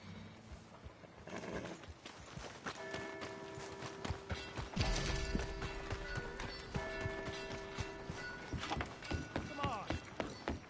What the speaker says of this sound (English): Hey! My horse! Am I glad to see you?